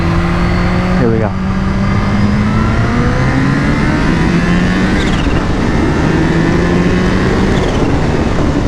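A Kawasaki H2's engine revving hard in second gear, a loud rising roar with a quick shift blip early, wind noise on top and a voice talking over it.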